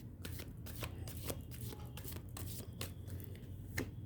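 Tarot cards are shuffled and drawn by hand, a quick series of soft riffling flicks and slaps up close, with no talk.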